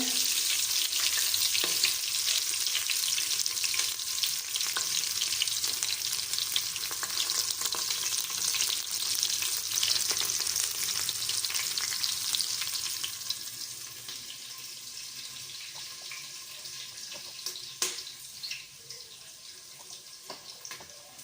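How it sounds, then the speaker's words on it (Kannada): Tempering of mint, green chillies, coriander leaves, cinnamon, cloves, onion and garlic sizzling in hot oil, a constant hiss that eases partway through, with a few sharp stirring knocks. "ಒಗ್ಗರಣೆ ಹಾಕ್ತಾ ಇದ್ದೀನಿ"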